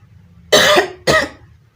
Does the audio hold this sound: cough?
yes